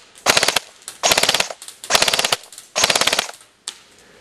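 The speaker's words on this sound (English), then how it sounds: "we're going to try some shooting tests on the mailbox just to see what we get." A Code-8 PTW airsoft gun rips off four loud, close bursts of rapid full-auto fire at a mailbox, each burst roughly half a second of fast rattling clicks, followed by a brief final burst.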